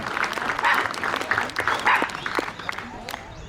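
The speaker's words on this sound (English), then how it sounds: "So a big round of applause for the best barbecue team in the world." A crowd claps through a round of applause for a barbecue team at a community Citizen of the Year event, a dense burst of hand claps that swells early, then thins and fades toward the end.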